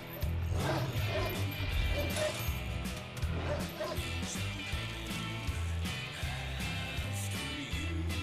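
A dog barks repeatedly in Hitman Absolution, the yips coming through a dense, loud game soundtrack with crashes and mechanical noise.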